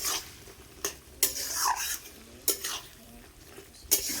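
Food cooks in a pan while a utensil stirs and scrapes it, giving a few distinct metallic scrapes at irregular intervals over a soft sizzle, fairly quiet and close.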